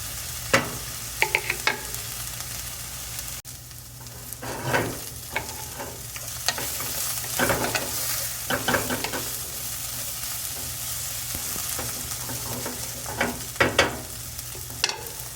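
Onions frying in a pan as the base for karela daal fry (bitter gourd with chickpea lentils), with a soft steady sizzle broken by occasional scraping stirs close by, no voices.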